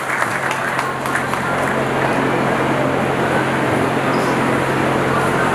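Steady, dense applause from a crowd welcoming a guest at a gathering, filling the whole stretch evenly without breaks or voices.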